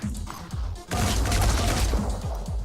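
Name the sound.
shooting an enemy's arm in the video game Phoenix Point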